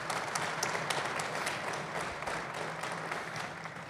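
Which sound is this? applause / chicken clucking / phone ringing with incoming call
applause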